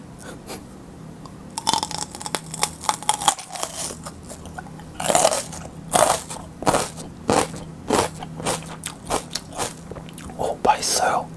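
Close, crisp crunches as someone bites into mini paprika (small sweet peppers) and chews, with a rapid run of loud, sharp bites in the second half.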